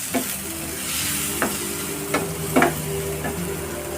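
Chopped tomato and capsicum for masala Maggi being mixed and fried in a pan: a steady close sizzle with a few sharp scrapes and clinks of the spoon against the pan.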